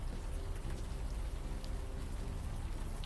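Steady rain falls in Central Park in the adventure game Unavowed, a dense, even hiss with scattered drops, continuous and fairly soft with no voices.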